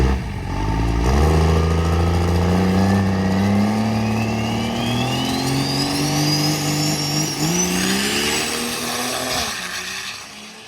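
A drag racing car makes a fuel-only pass, its engine roaring loud and close and climbing steadily in pitch through the gears, then dropping away near the end with no talking.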